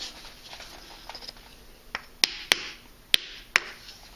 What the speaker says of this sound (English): I use a wooden wedge and a hammer, and I hit it until that line is parallel with that edge